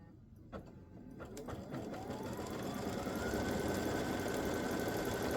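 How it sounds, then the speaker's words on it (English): A quilting machine stitches an edge-to-edge double loop design, its motor whirring steadily and building in loudness into a continuous mechanical hum with a rapid stitching rhythm, heard alone. "So that's what happens when I stitch my B file. So this is what's stitching now."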